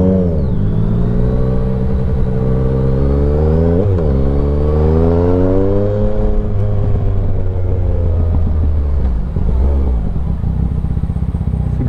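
A Yamaha Tracer 900 GT three-cylinder motorcycle accelerates hard through gears on a city ring road. Loud, close engine roar climbs in pitch, with quick shift dips and renewed pulls, over steady wind and road rumble.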